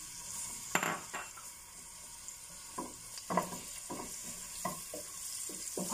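Shredded onion fries quietly in a pan for vermicelli noodles, a soft steady sizzle under occasional light clinks and scrapes of a utensil against the cookware, faint and with no speech.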